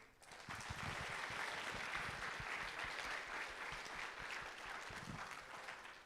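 Applause from the audience at the FIRST Tech Challenge 2024 Australian National Championship, thanking the event's sponsor: a steady wash of clapping from a large crowd that holds for several seconds, then thins and fades.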